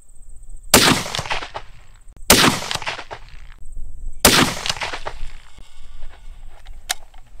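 Three loud rifle shots from a 300 PRC firing 225 LDM ammunition, each a sharp crack with a ringing decay, spaced about two seconds apart, with a faint steady tone and a small click near the end.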